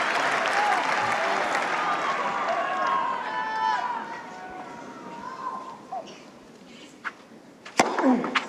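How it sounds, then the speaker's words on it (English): Tennis crowd applauding at Roland-Garros during the 2017 men's final on clay: a large stadium audience claps and cheers loudly, then the applause fades into scattered claps and murmurs, with a commentator's voice heard over it. "Listen to the applause for Wawrinka here."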